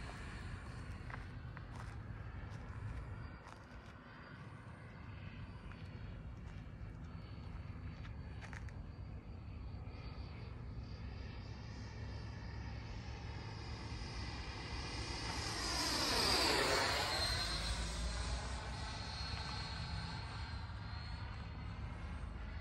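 A Motion RC Freewing B2 model aircraft on its maiden flight in a crosswind, with a steady electric-ducted-fan whine that swells into a loud, close pass with a sweeping pitch change before fading out.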